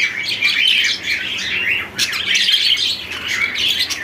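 Java sparrows chirp and tweet continuously in a busy flock, with bright overlapping calls close by and no talking.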